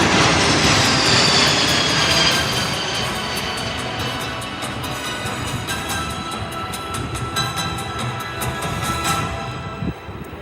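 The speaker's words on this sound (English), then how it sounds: "here comes the pedal to the metal, the Air Force" An Air Force C-17 Globemaster III jet roars past at full power after takeoff, a loud, broad engine rush with a high whine that slowly fades and thins as it moves away.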